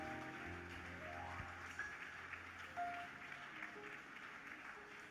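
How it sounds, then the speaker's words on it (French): Congregation clapping for the Lord during a bilingual French-English church service, a steady wash of many hands under low musical tones, moderately loud and sustained throughout. "Clap for the Lord."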